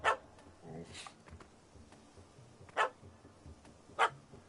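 A dog barks in The Witcher 3 video game, giving a few sharp, separate barks spaced out over several seconds at moderate distance, with quiet ambience and a voice between them.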